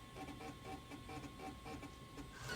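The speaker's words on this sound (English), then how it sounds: "This diskette has a lot of stuff on it, so it takes a little bit longer to" An Apple Lisa floppy diskette drive grinds and whirs in a steady mechanical churn with a faint tone and rhythmic ticking, close and fairly quiet, with no speech.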